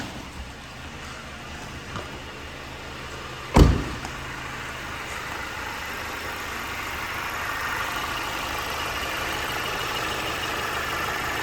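A 2019 Mercedes GLC 250 AMG Line with a 2.1-litre engine idles steadily at close range, a low continuous hum with one sharp knock partway through.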